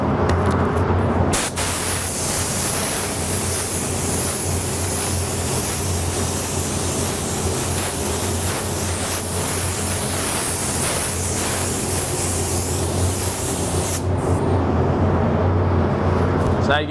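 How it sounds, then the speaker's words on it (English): An airbrush or spray gun sprays black paint over a red custom-painted motorcycle tank, a steady broadband hiss running continuously for about twelve seconds before cutting off. "So I'm going to spray."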